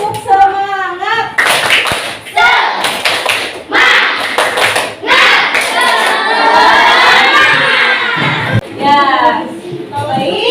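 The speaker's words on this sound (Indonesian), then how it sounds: "Tepuk semangat." Schoolchildren in a classroom perform a rhythmic spirit clap, with bursts of patterned hand claps mixed with loud shouted chanting voices, close and energetic throughout.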